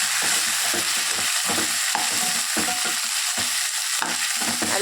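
Two large tomatoes sizzle and sauté in a hot pan over already-softened aromatics for a bitter gourd gravy, a steady close frying hiss with irregular stirring scrapes throughout.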